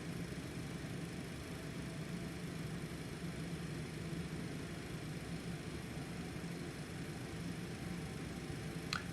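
Citation X business jet engines spool up during startup in the X-Plane 12 flight simulator, a steady broadband roar and hum that stays even and fairly quiet throughout, with no talking.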